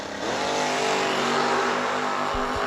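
Drag race cars, including an 88 Camaro, launching at World Wide Technology Raceway: a loud, sustained engine roar with rising revs that stays dense and close throughout, no voices.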